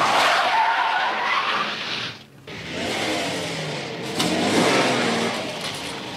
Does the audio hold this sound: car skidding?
yes